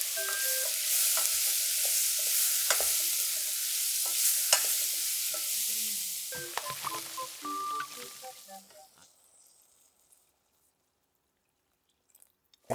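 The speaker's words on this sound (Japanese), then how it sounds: "人参を炒めていく。" Meat, potatoes and carrots stir-fry in a pan over a campfire, with loud continuous sizzling and repeated scraping and clacking of a utensil, then the sound thins out and drops to near silence near the end.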